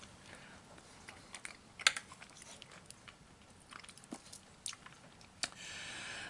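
Chewing and crunching of MRE chicken and rice with vegetables, including peas and potato, sounds as soft irregular bites close to the mouth, quiet with a few sharper crunches and no talk.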